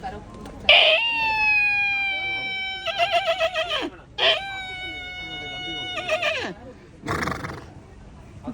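A mimicry artist imitates a horse with his voice, giving two long, loud, quavering whinnies that fall in pitch, followed by shorter snorting bursts. He speaks briefly between them.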